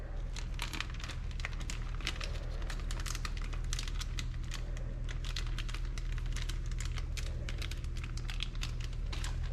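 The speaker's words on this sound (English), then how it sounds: "And then you unzip." A zipper is pulled open in a long, continuous run of rapid, close ticking and rasping clicks that lasts several seconds, with faint crinkling alongside.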